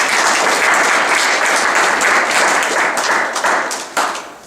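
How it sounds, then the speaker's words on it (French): An audience applauding Mario Vargoulis after a talk, a dense, steady round of clapping from a room full of people that begins to taper off toward the end. "Merci d'applaudir Mario Vargoulis."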